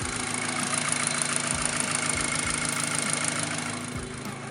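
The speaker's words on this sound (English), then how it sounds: "This car has an obnoxious tick." A Volkswagen GTI MK5 with a direct-injection FSI engine idles steadily and close, with a faint rapid ticking over the engine hum and no talking.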